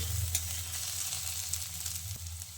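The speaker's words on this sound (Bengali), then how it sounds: "ঢাকা দিয়ে আলুটাকে আমি বেশ লালচে করে একটু ভেজে নিয়েছি" Potato pieces fry in a covered pan with a steady, close sizzle and a low, continuous crackle, with no voices over it.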